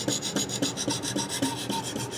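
A knife blade is drawn over a ViperSharp diamond knife sharpener in quick repeated rasping strokes, about a dozen close, even scrapes in steady rhythm with no voices.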